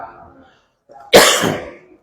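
A single harsh cough bursts out loudly, right after a brief murmur of speech, then trails off.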